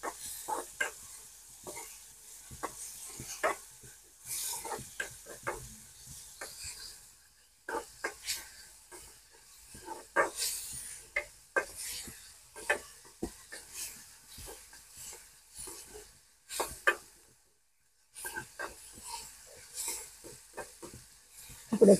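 A spiced mixture with salt and turmeric stirred in a pan for bajra rotla shaak, soft irregular scrapes and clinks with faint sizzling, fairly quiet, with a brief silent pause.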